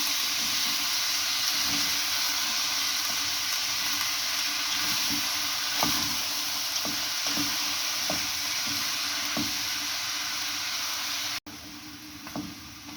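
Mixed vegetables and peas sauté in a pan under a constant dense hiss of frying, with occasional utensil scrapes and taps, and a brief cut before the sizzle resumes.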